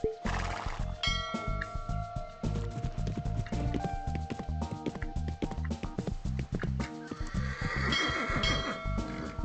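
Horse in a riding video game neighs and whinnies as it refuses a jump on a cross-country course, over steady clip-clop hooves and in-game music, loud and continuous throughout.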